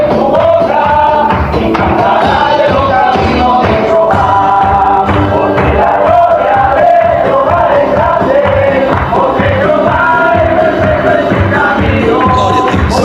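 Loud, dense crowd sound from a church congregation of men praising with joy during a mission trip in Venezuela, with voices and rhythmic activity filling the whole stretch; individual claps are not clearly separable.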